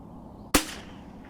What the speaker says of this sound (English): we'll go ahead and just shoot some rounds at 300 with holdovers just to get used to the reticle